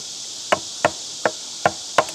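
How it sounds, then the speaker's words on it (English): A hammer drives a chisel into wood while building worm beds. Five sharp, close knocks land at a steady, unhurried pace, each with a short ringing tail, and there is no talk. "Sometimes a chisel and a hammer is really fast"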